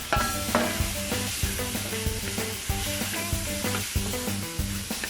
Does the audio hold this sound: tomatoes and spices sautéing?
yes